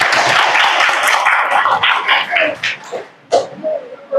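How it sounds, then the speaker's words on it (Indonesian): A classroom of students claps after a practical session, a loud, close burst of dense applause that thins out and fades into scattered claps and brief murmurs. "Ya, tepuk tangan dulu untuk praktek kita."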